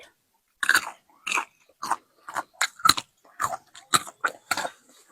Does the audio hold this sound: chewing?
yes